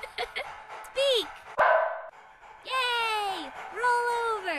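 Bright, whining tonal yelps from an infected dog in the puzzle game A Virus Named Tom, coming in short bursts with gaps, mixed with a voice and a sharp click.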